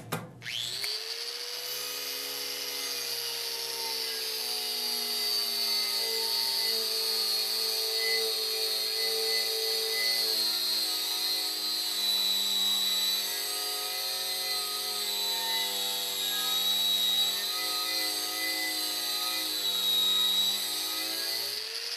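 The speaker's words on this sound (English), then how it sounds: "the use of wire brushes is a fairly effective and fast way to clean the weld" A powered wire brush cleans a TIG weld on stainless steel, producing a loud, continuous high whirring with a steady motor hum that runs unbroken for over twenty seconds.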